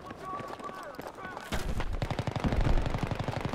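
Gunfire in the Battlefield 3 video game: a burst of rapid automatic shots that breaks out midway and continues as a fast run of cracks, with players talking over the game audio before it.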